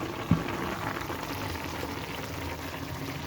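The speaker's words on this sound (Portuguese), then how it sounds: "nosso frango tá começando a fritar" Chicken frying in a pan with watery juices gives a steady, soft bubbling sizzle, even and close, with one faint clink near the start and no talking.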